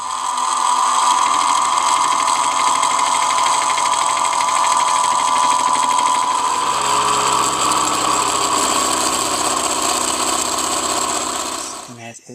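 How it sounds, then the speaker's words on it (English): A fly cutter facing one side of a small metal model caster part, a steady high whirring machine drone with a faint rhythmic cutting pulse, running continuously then winding down at the end. "That's the one side being faced off with the fly cutter."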